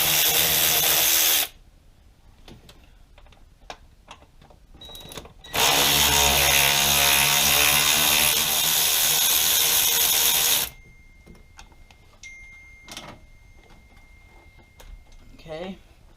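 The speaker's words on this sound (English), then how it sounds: "I got my Ryobi ratchet with 10mm socket." A Ryobi power ratchet with a 10mm socket whirs in two sustained loud bursts while working on a 2005 Dodge Ram 5.7 Hemi, separated by quieter clicks and tool handling.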